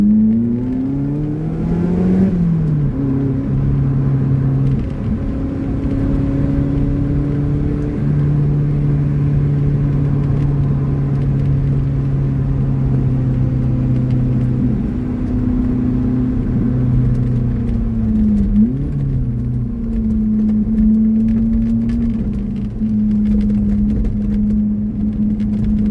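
A Lotus Elise's engine drones steadily on a mountain drive, a loud close tonal hum that rises sharply near the start with a downshift blip, then holds steady with small pitch shifts through the run.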